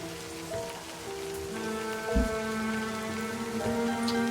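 Steady rain falls in the video game Livber, a dense continuous patter with a few faint tonal ambient layers and a soft thud partway through, no voices.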